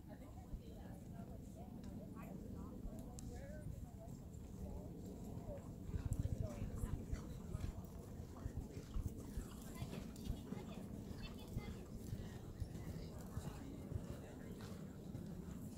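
Horses' hooves clip-clop at a walk and canter around an equitation show arena, faint and steady beneath an announcer's voice calling out gaits over a loudspeaker.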